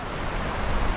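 Ocean surf washing in at Dong Hoi Beach in Vietnam near nightfall during the wet season, where a river meets the sea; a steady, broad, close wash of waves with wind noise and no voices.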